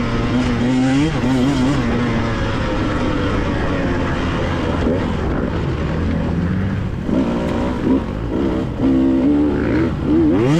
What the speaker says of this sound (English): second gear on this bike will pull, even in the really low RPMs